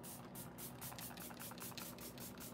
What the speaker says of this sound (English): We're gonna spritz another time itong beauty mist